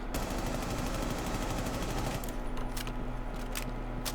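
Rapid automatic fire from a P10 Roni in the video game Rainbow Six Siege, one long unbroken burst of close, loud shots, then a few separate sharp cracks near the end.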